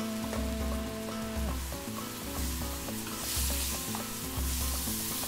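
Shrimp sear with freshly added chopped tomato in a pan, a bright hissing sizzle running continuously beneath music playing in the background.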